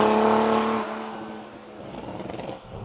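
A tuned, turbocharged 2021 Toyota Supra of about 500 hp running an E50 fuel mix, pulling hard under boost with a strong harmonic engine note that cuts off and gives way to a fainter, rough clattering rumble.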